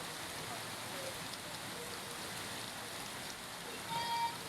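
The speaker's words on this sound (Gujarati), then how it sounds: "વડોદરામાં ધોધમાર વરસાદ પડ્યો છે" Heavy downpour in Vadodara, Gujarat, a steady dense hiss of rain on surfaces, continuous and even throughout, with a faint tonal sound briefly rising near the end.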